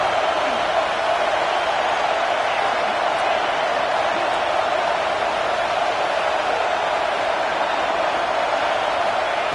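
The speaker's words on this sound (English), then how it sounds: "And here comes the noise. This crowd is trying to inspire this defense to make a big red zone stop." A football stadium crowd roars steadily as the defense faces a red zone stop, a dense, unbroken wall of noise that holds at a constant level throughout.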